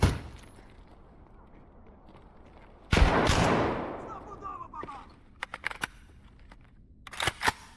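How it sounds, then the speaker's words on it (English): Gunfire in the Escape from Tarkov video game, a loud burst of shots that rings out and decays, followed by several sharp, scattered single cracks at mid distance. "Opening fire, I manage to kill one."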